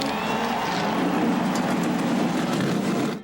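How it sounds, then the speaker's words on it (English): Race car engines at Daytona roar together in a dense, continuous rumble, loud and steady, ending abruptly. "Gentlemen, start your engines."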